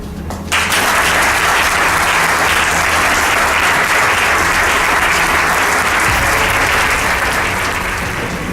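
Sustained audience applause at the AEM 2015 congress, a dense, loud wash of clapping starting abruptly after a brief lull and continuing steadily throughout.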